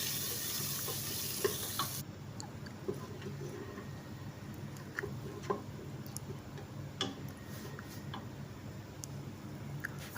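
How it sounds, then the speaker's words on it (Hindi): Chopped garlic, ginger and onion fry in oil in a pan, a steady soft sizzle with occasional ticks and scraping stirs, heard close and without voices. "अच्छे से इसको 2 से 3 मिनट तक इसको भुनाई करेंगे।"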